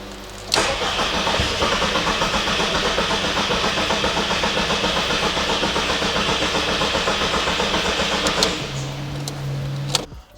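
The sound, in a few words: car engine cranking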